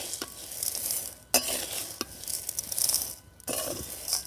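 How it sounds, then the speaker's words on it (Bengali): Grains and other ingredients being dry-roasted in a kadai over medium heat for homemade Cerelac, with continuous stirring. Gritty, rustling scrapes come in waves, punctuated by a few clear knocks of the spatula against the metal. "এগুলোকে হালকা করে ভাজতে হবে। অনবরত কিন্তু এইভাবে নেড়ে নিতে হবে"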